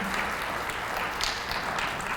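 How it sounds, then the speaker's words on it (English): An audience claps for the kindergarten teachers at a school kindergarten graduation, a steady wash of applause lasting a couple of seconds with no talk over it. "Would you give them a round of applause, please?"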